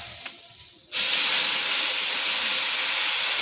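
Panch phoron spices drop into hot oil and a loud, sudden sizzle bursts out. The sizzle then holds as a steady hiss, after a quieter start in a home kitchen.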